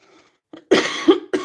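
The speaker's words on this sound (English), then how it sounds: "I apologize again if I cough." A few sharp, close coughs in quick succession, loud and raspy after a brief quiet moment.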